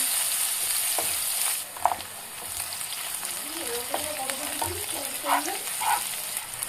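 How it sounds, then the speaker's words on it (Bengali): Oil sizzles steadily with a constant hiss while chopped onions and slit green chillies are stirred, with occasional clinks and faint background voices. "কুচানো পেঁয়াজ দিয়ে হালকা নেড়ে চেরা কাঁচা লঙ্কাগুলো দিয়ে ভালো করে ভেজে নেব"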